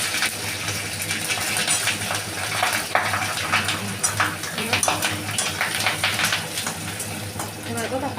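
Carrots drop into hot oil already spiced with cardamom, cloves and cinnamon for a vegetable pulao, crackling in a dense, continuous sizzle with quick scraping and stirring clinks throughout.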